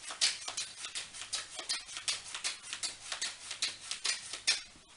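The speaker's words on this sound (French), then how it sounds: "Il mélange le jeu." Cards riffled and shuffled by a spectator at a close-up magic trick, a steady run of quick papery patters and flicks that keeps going with no talk over it.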